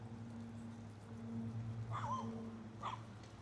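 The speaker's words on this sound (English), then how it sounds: "Now the bark even sounds like Koda's." A dog gives two short, high whimpering yips outdoors on a city street walk in Toronto's East End, heard at moderate distance over a steady low traffic hum.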